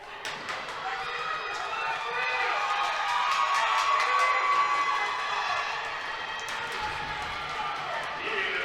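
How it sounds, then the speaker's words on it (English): Spectators in the stands cheer, clap and pound the glass for skater Gage Butler of Huber Heights, Ohio, in the final laps of a race at the 2022 American Roller Speed Skating Championships, a steady dense roar of crowd noise throughout. "And the crowd cheering Butler on."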